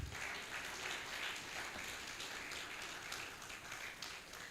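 Applause from a crowd at a health sector annual review meeting, a steady, fairly faint wash of clapping that holds evenly from start to finish with no voices on top.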